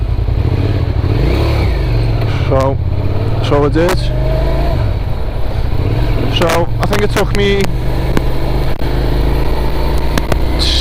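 Motorbike engine droning steadily under heavy wind buffeting while riding, with someone talking over it throughout.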